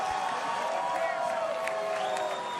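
A German boxing crowd at a Kubrat Pulev vs Tony Thompson fight fills the arena with a steady wash of cheering and murmuring, loud and continuous, with scattered whoops rising over the roar.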